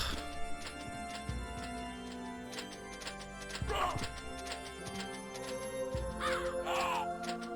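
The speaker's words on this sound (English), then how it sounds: "Die, you black crow." A crow cawing in Castlevania: Symphony of the Night, a few rough, harsh calls set over busy game music and sound effects, with a voice talking now and then.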